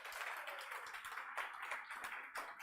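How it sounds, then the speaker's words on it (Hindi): Students fill a classroom with clapping, an uneven patter of many hands that is soft and distant, continuing steadily without talk. "इस सभी के लिए एक बार जोरदार तालियां हो जाए"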